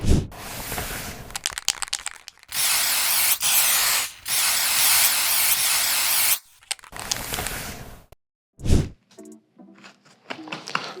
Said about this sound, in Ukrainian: ставлю абразив і будемо підготовлювати далі